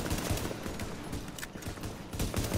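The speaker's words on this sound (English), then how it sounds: "Shoot him with your pistol." Dense, rapid gunfire from a firefight in the video game The Division, with overlapping shots and bursts crackling nearly nonstop at close range and no one talking.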